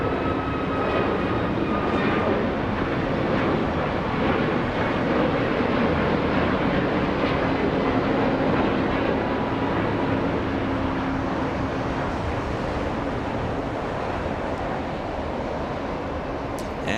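A Southwest airliner at Los Angeles International Airport gives a loud, steady jet engine roar with a broad rumble that holds nearly constant throughout, with no voices over it.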